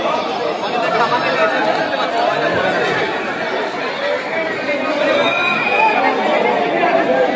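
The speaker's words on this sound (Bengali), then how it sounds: "কত ভিড় দেখুন, কয়েক হাজার লোকের ভিড়।" Thousands of devotees crowd inside Tarakeswar temple, their loud, dense murmur of overlapping voices filling the space with no break from start to finish.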